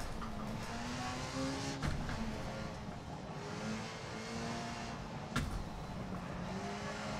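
Rally car in Dirt Rally with an H-pattern gearbox, its engine droning steadily at mid revs with gear changes, tire noise and occasional knocks from the road surface.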